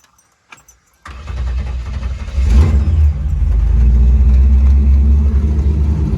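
A 1956 Chevrolet Nomad fires up after a few faint clicks of key and starter, then roars into a loud, deep idle with a brief rev. The rumbling exhaust note stays close and strong and holds steady to the end.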